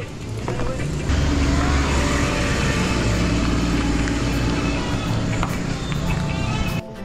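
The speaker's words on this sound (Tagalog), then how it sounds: "May sasakyan." A car on a village road in Balamban, Cebu rolls steadily past at close range, a continuous engine and tyre rumble holding loud for several seconds before fading slightly at the end.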